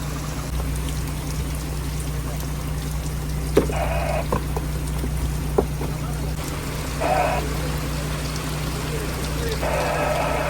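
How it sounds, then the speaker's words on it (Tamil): Heavy rain pours down at sea on a deep-sea gillnet fishing boat during a storm, a dense constant wash of drops over the low drone of the engine, with muffled voices in the background. "அப்போ மழை எங்களை வச்சு செஞ்சுக்கிட்டு இருக்கு."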